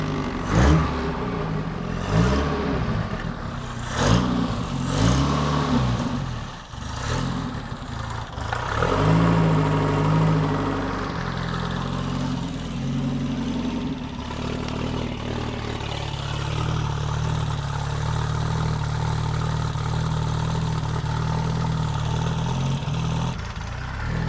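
A Toyota RA28 Celica engine cranks with a few uneven bursts, then catches and settles into a steady, loud running drone for its last fifteen seconds.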